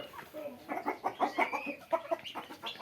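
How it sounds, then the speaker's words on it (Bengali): Tiger breed hens cluck in a quick run of close, rhythmic calls while laying eggs, busy and fairly loud, with no one talking. "এই যে ডিম পাড়তেছে মুরগিগুলো, বুঝলেন, পাড়তেছে ডিম"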